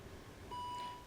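A single short electronic warning chime sounds faintly in the quiet interior of a 2012 Volvo XC70 D4, a clean steady beep lasting about half a second.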